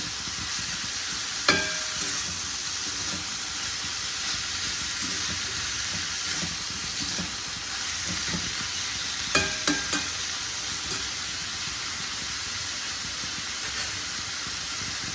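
Banana blossom curry (mochar ghonto) is stirred in a hot pan, giving a steady sizzle and hiss with a few spoon scrapes and knocks against the pan, up close and with no talking.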